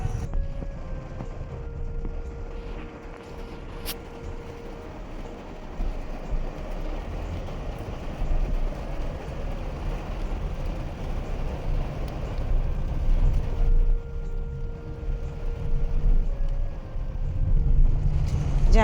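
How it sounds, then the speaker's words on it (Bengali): Heavy rain heard from inside a moving car: a dense, continuous roar that swells slightly toward the end, with a faint tonal hum running through it. "আর হঠাৎ খুব জোরে বৃষ্টি চলে এলো"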